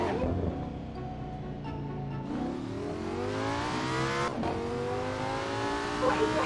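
A car accelerates in a VR racing game on a motion simulator, the engine rising in pitch through repeated gear climbs, loud and steady throughout.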